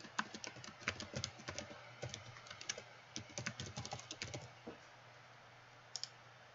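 Rapid bursts of keystrokes on a computer keyboard as a password is entered, close and crisp clicks in quick irregular runs, then a pause and two final taps.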